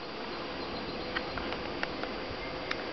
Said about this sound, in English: So here we are at the Barrel of Bees.